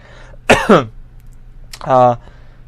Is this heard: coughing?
yes